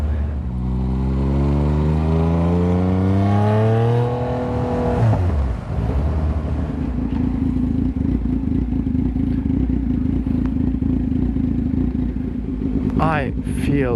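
Yamaha MT09 motorcycle with a straight-pipe exhaust, loud and close: a rising rev that climbs for several seconds, then drops into a steady rough idle with a brief blip at the end.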